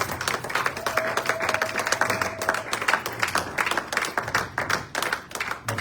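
A church congregation applauds loudly at a Paris gathering, a dense, steady wash of many hands clapping with crowd noise and faint voices underneath.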